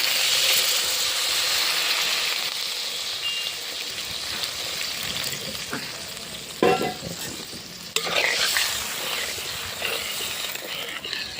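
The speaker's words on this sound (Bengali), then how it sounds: "আলু দিয়ে কষানো হয়ে গেছে এবার জল দিয়ে দিচ্ছি" Water hits a pan of frying potatoes and sets off a loud, steady hiss and sizzle, with a couple of sharp knocks and bursts of bubbling partway through.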